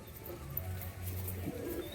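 Lakka pigeons cooing softly close by, low throaty murmurs repeating over a faint background hiss.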